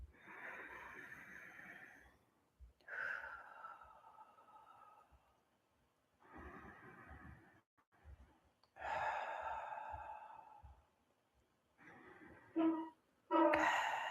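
Slow, deep breaths during a gentle prana yoga practice: long airy inhales and exhales with pauses between them, close and soft, one ending in a sigh-like release.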